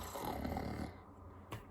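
A narrator imitates a child snoring with one long, rough, rasping inhale that fades into quiet, followed by a short snort.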